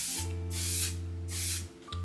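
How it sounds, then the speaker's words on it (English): Face setting spray misted from a pump bottle, two separate hissing bursts held close to the microphone, over a steady low hum, with no talking. "let me spray my face"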